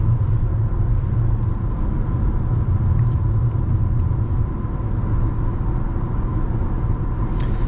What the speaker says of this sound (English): That way you can hear and see the acceleration while we merge onto the interstate.